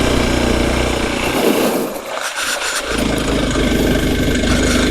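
Motorcycle engine running on a steep mountain road near Darjeeling while the rider shifts into first gear, a loud continuous mid-pitched drone that dips briefly as the throttle eases, then picks back up.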